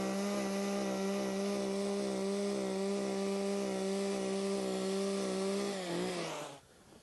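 A gas-powered ice auger drills a hole through deep-water lake ice while ice fishing, a loud, steady motor drone with grinding overtones that holds for about six seconds, then winds down and cuts out abruptly.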